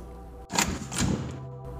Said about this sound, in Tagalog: Nagbukas ang pinto.